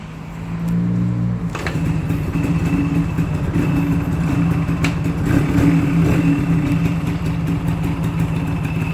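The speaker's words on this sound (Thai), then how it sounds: "อันนี้คือสตาร์ทเครื่องติดแล้วนะ เครื่องเงียบกิ๊บเลยนะครับ" A Yamaha Speed Mx scooter engine catches after a brief start at about a second and a half, then runs at a steady, quiet idle with a low, even hum.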